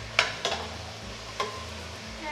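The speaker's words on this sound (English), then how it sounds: "And we stir them in." A spoon stirs sliced potatoes into a pot of hamburger soup, giving three short scraping clinks against the pot over a low steady background, with no talking.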